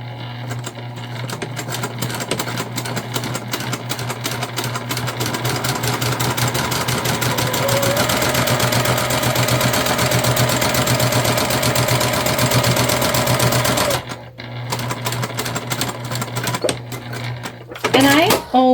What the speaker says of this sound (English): We're going to go ahead and top stitch.